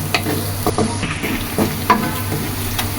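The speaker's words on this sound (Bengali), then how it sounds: "এভাবে আমরা পেঁয়াজগুলোকে আস্তে আস্তে করে বাদামি করে ভেজে নেব।" Sliced onions fry in a pan for a Bengali rui fish kalia, a soft continuous sizzle broken by several scraping strokes of a spatula stirring them, close and moderately quiet.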